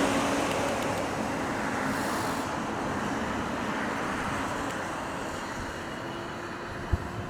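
Road traffic rolls past near a rotary with a bus close by, a steady broadband roar of tires and engines heard from inside a moving vehicle, with one sharp knock near the end and no talking.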